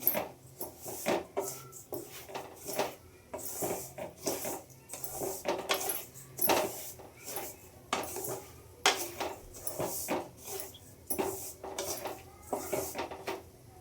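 Ingredients for uppittu being lightly roasted in a pan, with repeated metallic scraping and clinks of a spoon against the pan in an irregular stirring rhythm, fairly quiet and close, no talking.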